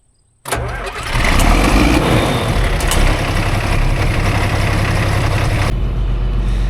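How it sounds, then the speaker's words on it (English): A 4430 tractor engine cranks and catches at the shop, then settles into a loud, steady idle close by as it warms up, a continuous low rumble with no talking over it. "we're just gonna let the tractor run while we do this, let it get nice and warmed up"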